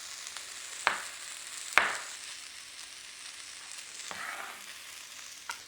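Beef browns in a pan with a steady soft sizzle, broken by a couple of sharp utensil clicks and scraping stirs, moderately quiet with no one speaking.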